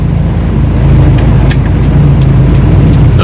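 Steady, loud road traffic rumbles on a busy holiday street in Taguig City, heard from close by as a dense continuous drone with passing cars and no voices.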